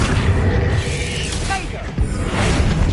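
In Hogwarts Legacy, a Bombarda spell explodes as a heavy, booming blast with rumbling low end, followed by a lingering roar and further impact thumps in a loud game scene.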